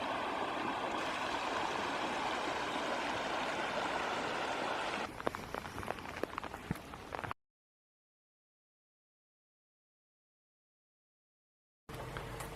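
The Guatitalema River in January rushes with a steady, loud wash of flowing water. The sound then cuts to silence and returns briefly at the end.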